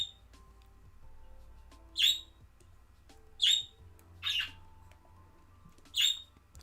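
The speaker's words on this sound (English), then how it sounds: "I have two budgerigar birds," Two budgerigars give four short, shrill chirps spaced a second or two apart over a quiet room background.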